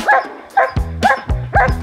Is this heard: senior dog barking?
yes